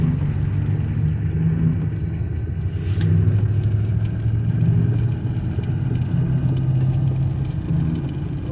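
An old car that has just started for the first time in 20 years drives slowly, its engine a steady low rumbling drone close by with a faint brief click partway through, and no talking.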